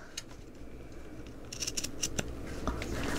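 Scissors cutting paper for a handmade mini album, a few quiet close snips clustered mid-way with soft paper rustle between, faint and alone.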